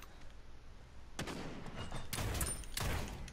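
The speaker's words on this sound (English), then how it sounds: "It's a sniper." Sniper rifle shots in the Realm Royale video game, three sharp loud cracks spaced roughly a second apart after a quiet start.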